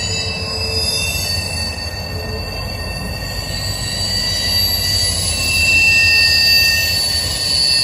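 Freight train locomotives at East Deerfield Yard give a steady, shrill metallic whine over a low rumbling drone, heard up close, rising slightly in loudness toward the end.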